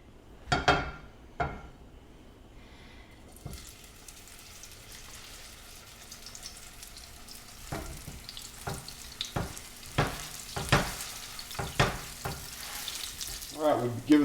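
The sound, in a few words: dehydrated potato patties frying in hot olive oil in a pan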